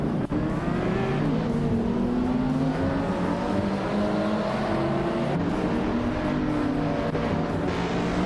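A 2004 BMW M5 race car screams around a track in a racing video game, its engine whining loudly with rising and falling revs as it shifts and accelerates, other cars faintly audible behind it.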